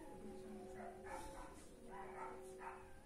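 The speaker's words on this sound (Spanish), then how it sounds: "Está llorando el perro de la vecina." A dog whines and whimpers in faint, high-pitched cries, a few short wavering calls heard at a distance over a steady background hum.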